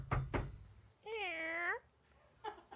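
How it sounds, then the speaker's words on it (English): A house cat gives a single clear, drawn-out meow, with a couple of knocking thumps just before it and a short bit of talk following it. "That's our cat."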